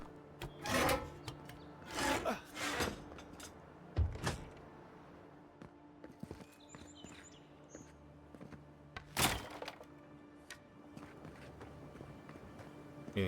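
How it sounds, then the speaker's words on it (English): Spider eggs are destroyed in Tomb Raider 4 with a few scattered, crunching and rasping hits, separated by quieter stretches. "Just destroying some spider eggs."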